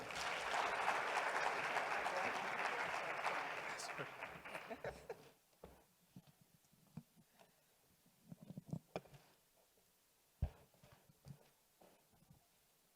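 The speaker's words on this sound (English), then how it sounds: "A round of applause, guys." An audience at a forum at Global Expo Botswana 2023 applauds in a dense burst that fades after about five seconds, leaving scattered claps, shuffling and a few voices.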